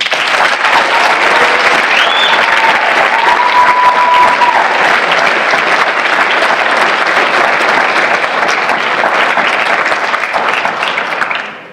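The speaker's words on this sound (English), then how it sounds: "let's give one more applause" A school audience at a Pro Football Hall of Fame award presentation applauds a finalist with loud, dense, continuous clapping from many hands, a couple of whistles near the start, holding steady before tailing off at the end.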